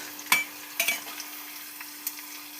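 Garlic frying in hot oil at an evening street-food stall making churmuri, a faint steady sizzle broken by a few sharp scraping stirs of a spoon in the pan.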